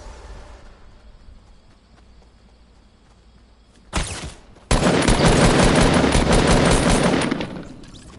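Sustained automatic gunfire from a video game weapon, loud and close. A short burst comes first, then a long rapid stream of shots lasting several seconds over a quiet background, with no talk.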